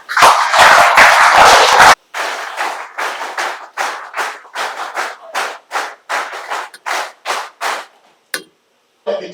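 Audience clapping at a village celebration marking 25 years of a de-addiction camp in Belal: a dense burst of applause for about two seconds, then a run of sharp, evenly spaced loud claps, alone with no voices.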